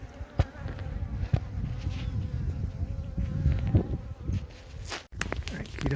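Honeybees buzzing close by during removal of a hive from inside a tree, a steady swarming drone with individual bees zipping past the microphone, plus occasional knocks and handling noises.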